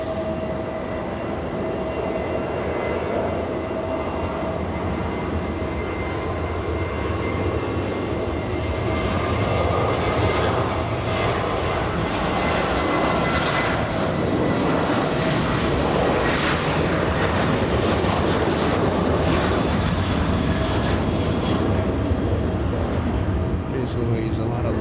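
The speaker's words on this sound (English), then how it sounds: "We're going to go and zoom into Southwest Airlines flying to Las Vegas" Southwest Airlines jet taking off at LAX on a Las Vegas-bound departure, a steady broad roar of jet engines holding loud and constant throughout, with faint talk mixed in.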